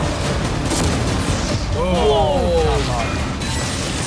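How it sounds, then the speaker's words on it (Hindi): Cannon fire smashing into a yacht: loud crashing impacts and splintering debris over a roaring, chaotic background, with whistling tones sweeping through the middle as the barrage continues. "वो कैनन्स अभी से शॉन की यॉट को तोड़ रहे थे"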